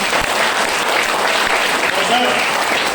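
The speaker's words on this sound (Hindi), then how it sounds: "ताली जोरदार बजाएं" Audience clapping loudly at a motivational speech, a dense sustained burst of applause filling the room at a constant strong level, with a voice faintly over it.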